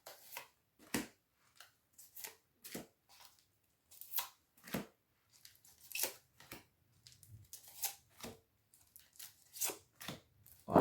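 Tarot cards are laid down one after another onto a spread, producing a quiet, irregular run of soft slaps and papery flicks, with short pauses between them.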